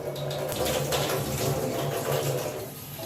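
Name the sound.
draining the soaking water off rice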